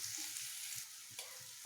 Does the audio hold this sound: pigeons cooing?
no